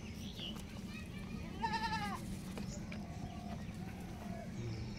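A goat on a farm in Hayatpur, Natore, a young doe with her first kid, gives a short wavering bleat near the middle, heard over a steady low background hum with faint voices around.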